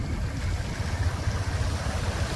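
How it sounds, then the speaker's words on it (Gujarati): Floodwater rushing over a road after heavy rain near Roniya and Gundarni, a steady broadband wash with a strong low rumble, loud and continuous throughout with no talk. "ને આ છે રોડ ને રોડનું પાણી અત્યારે તો ભાઈ રોડની માથેથી પાણી જાય છે."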